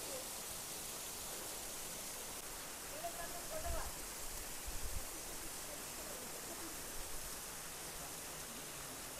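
A waterfall about 100 feet high, running low after two days of rain, gives a steady broadband rush, with faint low thumps partway through.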